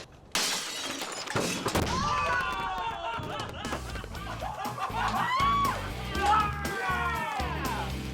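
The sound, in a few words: sodium reacting in water, blasting and shattering a bathtub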